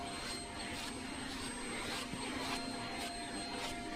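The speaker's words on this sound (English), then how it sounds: "the lack of suction of this kind of bothers me after using it for a long time, because it's not really getting the dandruff up" A pet vacuum with weak suction runs steadily while grooming a miniature horse, a continuous close whooshing motor drone with a faint whine and slight pulsing, no talking.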